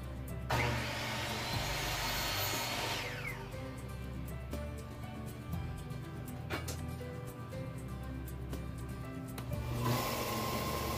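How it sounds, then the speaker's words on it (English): Belt sander grinding a flat edge onto a hand-cut wooden dowel in a workshop, a steady loud motor whine with bursts of rougher abrasive contact as the wood is pressed against the belt, running continuously throughout. "I took it over to the belt sander so I could get a flat edge on it."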